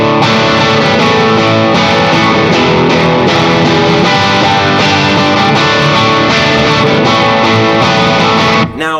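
Guitar strumming part B of a song: a loud, dense, continuous wash of strummed chords with a slightly distorted edge, played alone without voices until a brief drop at the end.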